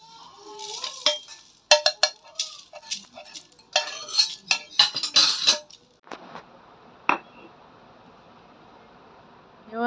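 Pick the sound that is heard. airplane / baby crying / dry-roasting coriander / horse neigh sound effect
dry-roasting coriander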